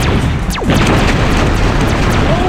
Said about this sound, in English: look at those explosions.